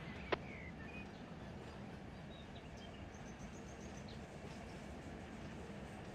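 Freight train rolling on the rails in the Run 8 train simulator game, a steady rumbling clatter of wheels and cars throughout, with one sharp click early on and faint high squeals later.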